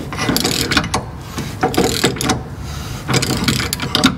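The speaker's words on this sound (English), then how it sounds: "I got my 36mm on just a regular standard socket, or ratchet I should say." A ratchet wrench with a 36mm socket turns on a split-window VW Bus while an IRS kit is being fitted, giving repeated bursts of rapid mechanical clicking close up, with short pauses between the strokes.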